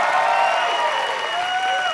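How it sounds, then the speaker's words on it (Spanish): Steady applause and cheering from a late-night TV studio audience, a loud unbroken roar of clapping with shouts and whistles riding on top. "¡El aplauso para Felipe!"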